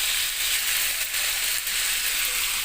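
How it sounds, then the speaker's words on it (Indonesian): Salted peda fish frying in a little oil, a steady bright hissing sizzle with faint crackles, close and continuous, no voices. "Jangan lupa dibalik dan digoreng hingga berubah warna menjadi kuning kecoklatan."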